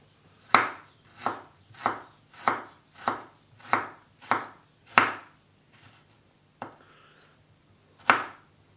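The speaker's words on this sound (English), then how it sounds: "I'll try and get it all cut up nice and small" A knife chops horseradish and chilli on a board in about nine crisp, evenly spaced strikes with short pauses, close and clear with no talk.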